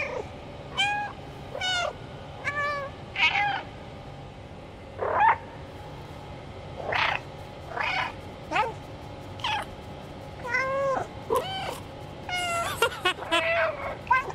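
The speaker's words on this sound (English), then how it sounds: "CGI cat, just meowing up a storm, mostly invisible" A CGI cat in the video game Stray meows over and over, a long run of separate loud, wavering calls spread across a quiet background.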